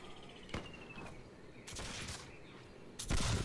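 A group of men fire guns in the video game Caribbean!, giving three separate bursts of volley fire with short quiet gaps between them, moderately distant.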